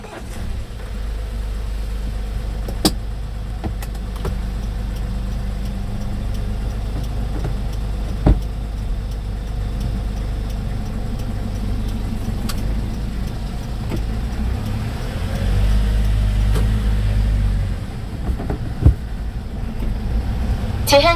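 A car hums steadily along a road during a driving test, its engine and tyre noise forming a continuous low drone with a few faint clicks and knocks inside the cabin, and no one speaking.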